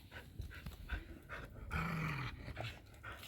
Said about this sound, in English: Hey, you got a crazy dog running around.